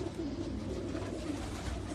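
Pigeons on a Karachi rooftop coo in a low, steady murmur that fills the whole stretch, several birds overlapping close by with a faint hum underneath.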